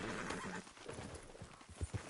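A horse in Red Dead Redemption whinnies, followed by a few hoof clops on the ground, faint and close with no talk.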